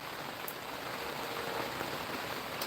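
Steady rain pours down outdoors in a dense, even hiss, heavy and continuous, with no voices.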